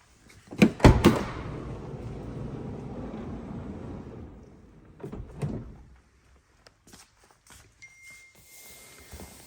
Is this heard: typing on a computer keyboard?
no